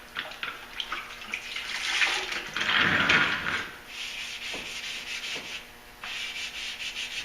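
Wet sanding a truck door with sandpaper on a block, a series of close, raspy wet rubbing strokes that swell and fade in rhythm, louder mid-clip, without speech.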